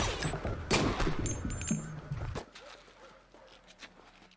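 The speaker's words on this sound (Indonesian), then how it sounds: "Joe berlari secepat mungkin sambil berusaha menghindari tembakan yang dilepaskan Baptiste." Bursts of gunfire in a film chase scene as a man flees on foot, sharp loud cracks with scattered shots and a busy mix over the first half, then dropping to quieter background sounds.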